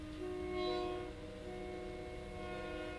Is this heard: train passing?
yes